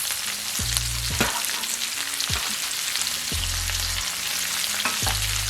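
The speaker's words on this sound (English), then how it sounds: "So I'm going to go ahead and put that into my asparagus." Fresh chopped garlic and ginger sauté with asparagus in a pan already seasoned from shrimp, a loud steady sizzle with several stirring scrapes along the way.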